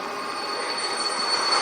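Train wheels squeal steadily at a railway station in the video game Emergency, a continuous high metallic screech with no talk over it.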